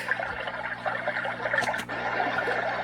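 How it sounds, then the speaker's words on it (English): Brook setting from a sound machine producing a continuous broadband water rush with a steady trickling texture, moderately loud and alone, with a brief brighter splash near the end. "A brook."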